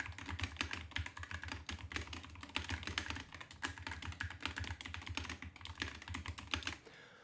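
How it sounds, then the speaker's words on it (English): Rapid typing on a computer keyboard at a desk, a dense run of clicky keystrokes at a steady pace, close and fairly quiet, ending with a brief pause. "I want to do that keyboard test as well"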